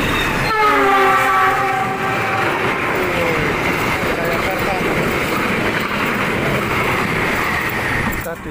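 Arjuna Ekspres train locomotive shunting at Kertosono station, a loud sustained rumble with a blaring horn near the start, steady rail noise continuing throughout and nearby.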